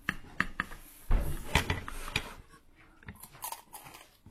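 Crisp crunching bites into a crispy Vietnamese-style veggie roll, several sharp crackly bursts in a loose irregular rhythm, close and fairly quiet with no talk.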